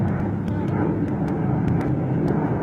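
A Boeing B-17 bomber drones overhead near South Mountain in Phoenix, Arizona, a steady low rumble heard from a distance while people talk over it.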